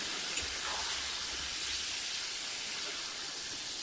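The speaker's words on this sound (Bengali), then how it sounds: "চিকেনটাও আলুর সঙ্গে ফ্রাই করে নিব 2-3 মিনিট।" Chicken pieces and potatoes frying together in a pan give off a steady, even sizzling hiss that holds for a few seconds with no talking.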